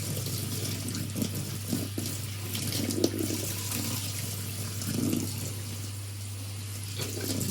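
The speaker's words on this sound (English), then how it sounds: "This is a cup of rice that I'm going to slightly wash" A cup of rice gets a quick rinse under a running kitchen tap, a steady wash of water hissing into the bowl, with a low constant hum underneath and a few soft clinks and splashes.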